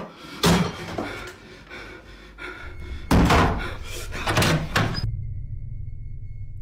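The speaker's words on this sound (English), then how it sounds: "A knocking sound." Heavy thuds in a ghost video recording, a few loud knocks or slams near 0.5 s and a cluster around 3 to 4.5 s, ending in a steady low hum.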